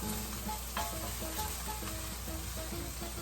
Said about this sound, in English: So you're gonna add 2 cloves of garlic. We're using real garlic. In with the onions.